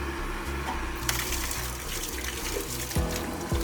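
Softened water runs from a tap from an automatic water softener, a continuous splashing flow with a couple of brief thuds near the end and no talking.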